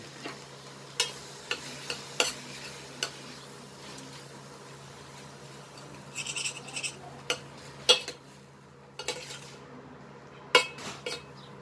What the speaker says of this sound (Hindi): मैंने अच्छे से हिला दिया इसको